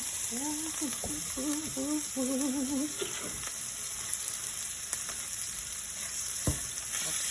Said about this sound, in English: We need some oil because we're about to drop these noodles in here